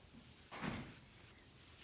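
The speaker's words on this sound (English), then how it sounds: "Once I hear the door, you stop playing." A door opening or closing indoors, a single soft thud with a short rattle heard fairly faintly against quiet room noise, no talk.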